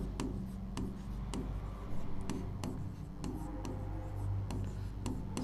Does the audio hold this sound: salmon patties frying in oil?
no